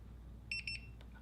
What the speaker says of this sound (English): Now you hear the 2 beeps.